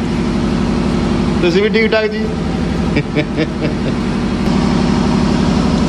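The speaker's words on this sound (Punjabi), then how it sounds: "ਪਿੱਛੇ ਜਨਰੇਟਰ ਦੀ ਆਵਾਜ਼ ਬਾਹਲੀ ਆ ਰਹੀ ਹੈ" A generator drones steadily in the background of an outdoor chat, a low, continuous engine hum that runs under a brief exchange between voices.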